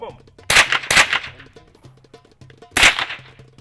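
AK rifle fired at a shooting training session, several sharp loud cracks spaced apart, with faint background sounds between shots.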